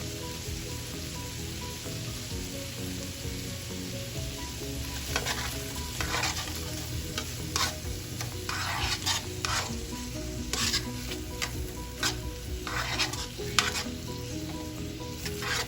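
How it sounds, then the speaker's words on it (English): A tablespoon of minced garlic frying in a pan, a steady soft sizzle with scattered crackles and stirring scrapes growing busier toward the end, fairly quiet and without voices. "A tablespoon of minced garlic. And I'm gonna let that cook for a little bit."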